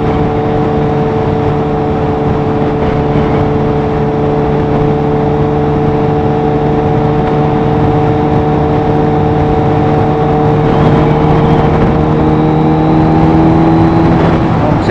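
Kawasaki H2 motorcycle engine accelerating, a loud continuous whirring drone whose pitch climbs slowly and steadily, close to the rider with no talk.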